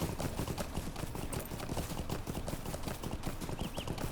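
A horse mount in the game Lord of the Rings Online trots with rapid, regular clip-clopping hooves, steady and fairly faint throughout.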